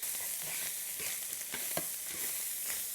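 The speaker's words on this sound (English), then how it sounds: "And we'll just break that up and fry it off." Discount ground beef breaking up and frying in a frying pan for a 1938 Depression-era chop suey, giving a steady, fairly faint sizzle with occasional scraping stir sounds and no talk.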